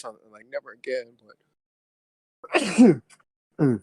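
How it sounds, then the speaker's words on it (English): A person sneezes sharply once, followed by a shorter second burst. Both come after brief nearby talk. "I don't know if y'all heard me sneezing."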